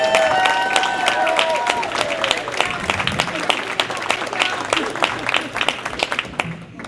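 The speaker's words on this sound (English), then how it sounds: "How about let's start out with a nice big round of applause for 2025 Wilmington Good Guy, Terry McDermott." An audience at an award event for Wilmington's 2025 Good Guy claps and cheers in a dense, steady round of applause for about seven seconds, with tonal sounds and scattered voices in the room at the start.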